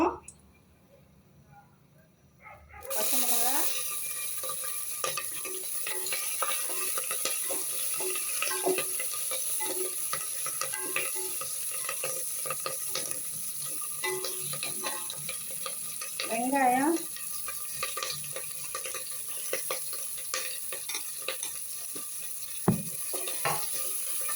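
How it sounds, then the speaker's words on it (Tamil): Onions sauté in a pan for basmati fried rice. Silence at first, then a steady close sizzle sets in and runs on with occasional clinks and stirring scrapes, while a voice talks intermittently over it. "வெங்காயம் கொஞ்சம் வதங்கட்டும் வதங்கட்டும்"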